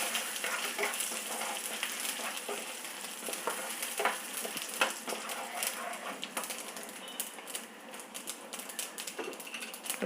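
Chana dal and dried red chilies fry in hot oil with a steady, dense crackling sizzle and busy popping spatters, close and continuous throughout.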